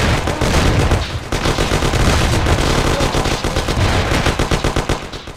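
Sustained automatic gunfire in a Mafia video game shootout, loud and continuous with rapid overlapping bursts and dense rattling shots throughout, no talking.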